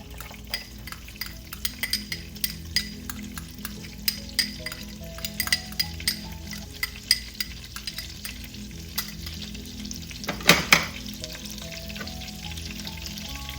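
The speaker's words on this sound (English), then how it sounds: "I'm gonna add in some chopped garlic here." Chopped garlic frying in melted butter in a pan makes a continuous close sizzle, punctuated by frequent sharp taps and scrapes of a utensil stirring against the metal, with no voices.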